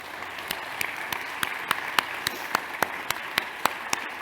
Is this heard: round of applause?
yes